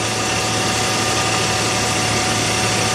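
A Nissan Xterra engine idles hot, with a small metered air leak and a rich fault. It makes a steady, continuous rumble with constant vibration and no talk.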